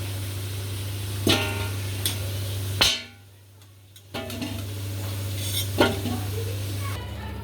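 Potatoes frying in a pan until browned, close steady sizzling with scraping stirs and clinks of a spatula against the pan, then a brief near-silent gap before the sizzle and stirring return.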